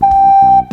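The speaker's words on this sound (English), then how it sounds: "But if you breathe into it, it sounds like this." A single soft, pure recorder note held briefly and steadily, quieter and breathier than a forced tone, with faint low murmur beneath.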